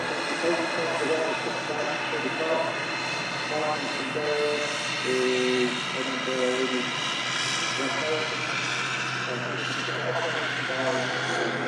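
A Virgin Airbus A330 heavy jet departs Manchester Airport, its broad engine roar steady and loud throughout, with tonal whine bands on top and a man chatting over it.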